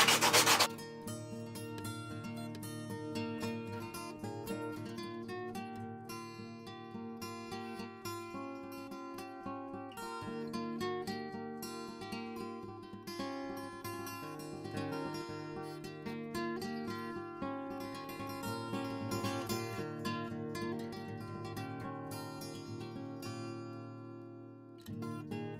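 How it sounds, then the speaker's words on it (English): Continuous rubbing as a turned poplar wood wand is hand sanded with sandpaper, a close, steady scratching texture that carries on for the whole stretch with no talk. "So I'm going to just hand sand that now."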